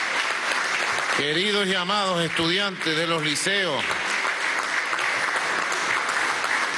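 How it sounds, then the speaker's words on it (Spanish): Steady, loud applause from a large audience, acknowledging the nation's high school students, running continuously while someone speaks over it. "Desde aquí le damos un aplauso a los estudiantes de nuestra patria."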